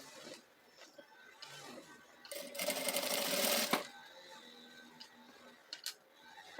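A sewing machine topsitches a seam with a short stitch length on a baby's medicine-bag organizer, running in a fairly close, steady burst of about a second and a half amid quieter handling sounds.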